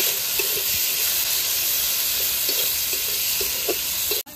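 Garlic paste, onion paste, green chillies and chopped tomato fry for chicken with a steady, close sizzling hiss, broken by soft scrapes and knocks of stirring.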